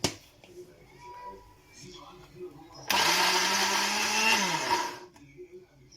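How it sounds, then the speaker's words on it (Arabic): Electric blender whirs loudly for about two seconds, mixing milk with two spoons of oil into homemade cream cheese, with quieter talk around it before and after. "اضرب الخلاط."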